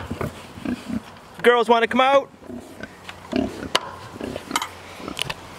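Pigs in a farm pen grunt and oink in short bursts near the door, with a louder squealing run mid-clip, while a person talks to them.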